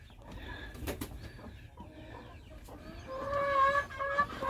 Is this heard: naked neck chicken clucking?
yes